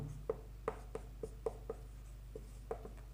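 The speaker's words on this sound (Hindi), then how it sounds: "इसे हिंदी में लिखता हूँ, देखिए, अमेठी संग्राम" Chalk or marker writing Hindi text on a classroom board: a series of short, sharp tapping strokes at an uneven pace, close and fairly quiet, with a steady low hum underneath and no speech.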